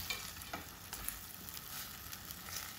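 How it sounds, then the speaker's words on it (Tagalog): Sautéed ampalaya with sardines and egg is stirred in a pan: a soft, steady sizzle with light scraping strokes recurring every half second or so, fairly quiet and close. "Tapos, i-mix natin."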